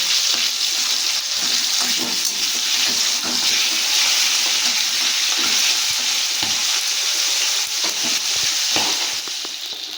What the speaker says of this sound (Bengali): এবার আমি অন্য পিঠটা ঠিক একইভাবে ভেজে নেবো